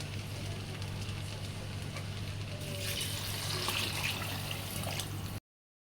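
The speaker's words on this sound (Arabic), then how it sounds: "وبس بقى دلوقتي هنحط المية" Water runs steadily into a cooking pot while making Egyptian koshari, a continuous pouring and splashing that swells slightly midway, heard alone over a low steady hum before stopping abruptly.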